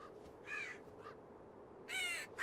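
Ravens call near an elk carcass with harsh caws, a few separate calls spread over a couple of seconds, moderately distant against a faint outdoor background.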